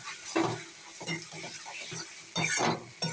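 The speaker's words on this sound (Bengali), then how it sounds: "এবার দিয়ে এটাকে আবার নাড়াচাড়া করব।" Roasted cumin seeds, coriander and dried red chilies stirred in a dry pan for a brinjal bharta, giving a few scraping, rustling strokes with a soft sizzle, close up, with no talking.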